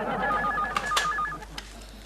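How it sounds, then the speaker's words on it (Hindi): A telephone is dialed to place a call, a rapid run of short, even keypad tones, close and clear over a faint room hum with no talk. "मैं फोन करके बोलती हूँ"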